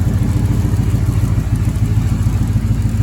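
A 1972 Ford F-100 pickup engine idles steadily nearby, a loud, even low-pitched chugging with a regular rhythmic pulse and slight clatter.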